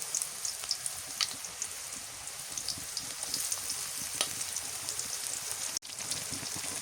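Garlic paste hitting hot oil while cooking a cauliflower and beef curry, giving a loud continuous crackling sizzle with scattered pops, close up and steady, broken by one brief dropout near the end; nobody speaks.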